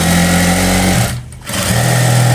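Sewing machine stitching a uniform shirt, loud close mechanical whir that stops briefly mid-run and then starts up again, with no voices.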